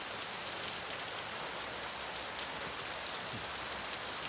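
Steady rain pours down during a rainy evening in rural northeastern Thailand, a dense continuous hiss with no voices, holding even and close throughout.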